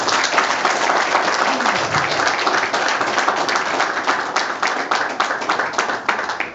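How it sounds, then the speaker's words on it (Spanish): A crowd at a political party committee event applauds a newly installed party president, dense steady clapping with sharp individual claps standing out, lasting throughout at a moderate, even level. "fuerte el aplauso para el doctor Jorge Luis Horta, nuestro nuevo presidente del partido"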